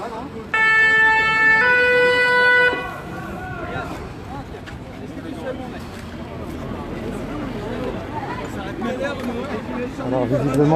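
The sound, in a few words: fire engine siren approaching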